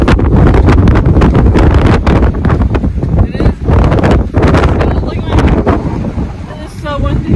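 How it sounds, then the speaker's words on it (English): Strong wind at the Petrified Forest in Arizona, a loud steady roar buffeting the microphone with low rumbling gusts throughout, with faint voices underneath near the end. "It is so windy."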